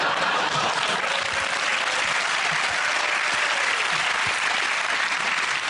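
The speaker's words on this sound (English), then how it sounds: "One of the largest spontaneous and heartfelt applause we've had." Studio audience on a British comedy panel show breaking into a long, loud, sustained burst of applause that holds steady throughout, with no voices rising above it.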